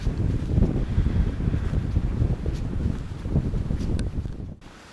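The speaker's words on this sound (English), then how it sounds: "It's windy." Strong, gusty storm wind on a forest hiking trail near Bad Bergzabern buffets the microphone with a steady low roar, then drops away abruptly near the end.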